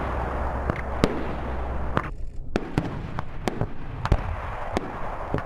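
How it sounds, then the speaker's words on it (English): Live fire from a Spooky gunship during a military call-for-fire exercise, a series of sharp distant booms and cracks spaced irregularly, about a dozen in a few seconds over a steady rumbling background. "They're going to do some live call for fires with a gunship"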